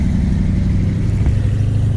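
A Cadillac drives past at a Hail to Horsepower car event on a horsepower farm in Middletown, Ohio, its engine giving a steady, close, loud rumble and hum throughout with no speech.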